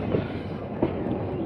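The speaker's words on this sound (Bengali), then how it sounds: "সকাল 8টায় ছেড়ে দিল আজিমগঞ্জগামী প্যাসেঞ্জার স্পেশাল ট্রেন" An Azimganj-bound passenger special train pulls out of platform 3 at Kasimbazar, a steady rolling rumble with a couple of sharp wheel clacks, heard close.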